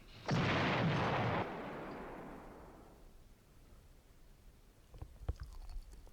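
A loud, sudden blast from a 1964 film with a broad roar that fades into a rumbling tail, followed by a few faint scattered knocks and crackles.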